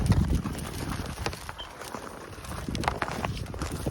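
Footsteps push through tall dead weeds such as horse nettle and giant ragweed along a deer trail, a steady crunching, rustling tread close by with no talk.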